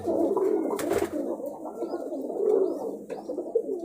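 Pigeons coo close by in a soft, repeated, throaty murmur, with a few sharper chirps and flutters mixed in.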